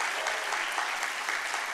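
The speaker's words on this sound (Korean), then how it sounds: "우리 대학 청년들 축복의 박수 한번 오늘" A church congregation bursts into dense, continuous applause for its university young adults, a full, even wash of many hands clapping together.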